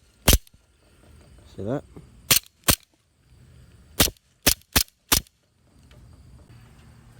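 Blowback airsoft pistol firing with sharp, loud cracks as the slide cycles on each shot, heard as a single shot, then a pair, then a quick string of four with gaps between, plus a brief voice in the middle.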